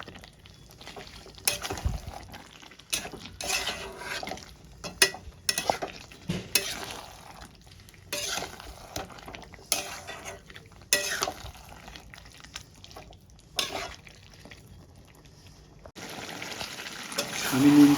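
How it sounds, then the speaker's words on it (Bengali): Chicken being stirred into sautéed onion and capsicum in a pan, with steady sizzling and frying, repeated scraping stirs and occasional clinks of utensil on pan, close and moderately loud, no talking. "এবার আমি চিকেনের মধ্যে দিয়ে দেবো। আমি চিকেনের মধ্যে দিয়ে নিয়েছি, এবার আমি ভালো করে মিক্স করে নেব।"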